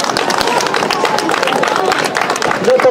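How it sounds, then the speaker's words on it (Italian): Loud, dense applause from a crowd at a closing party for an ice skating rink, clapping for the local administrators with steady crackling hand claps and background chatter. "mi auguro che ci sia un bel applauso per questi amministratori"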